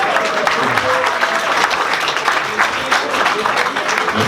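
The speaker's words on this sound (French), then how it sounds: "Donc vous pouvez l'applaudir." An audience at the Opio Valbonne Classic event gives a sustained round of applause, thick and even throughout with no talk over it.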